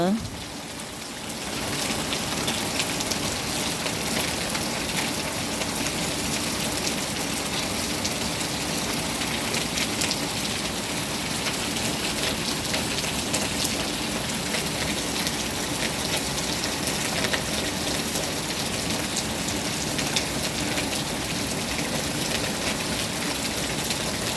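Steady rain falls without a break, a dense, even hiss of drops that stays loud and constant throughout.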